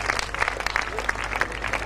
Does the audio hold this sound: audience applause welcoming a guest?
yes